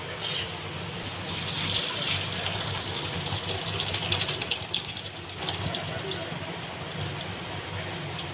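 Water and cooked vermicelli pouring from a steel vessel through a perforated colander basket, a steady broadband splashing rush that stays loud and continuous throughout.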